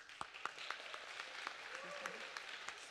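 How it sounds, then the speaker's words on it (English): Applause from a church congregation at a graduation recognition, a steady wash of clapping with a few sharper claps standing out, moderately distant and continuous throughout. "So much for holding applause."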